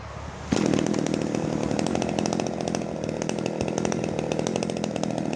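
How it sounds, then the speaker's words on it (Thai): Kyoritsu SRM265 long-shaft brush cutter engine firing up after a restart: a quiet lead-in, then the small two-stroke catches abruptly and keeps running loud and close with a steady, buzzing rattle. "ผมจะดับเครื่องแล้วก็สตาร์ทใหม่นะครับ"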